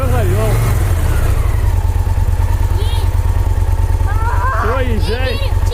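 A motorcycle engine idles steadily just after being started with the push button, a low continuous rumble running throughout while people talk over it.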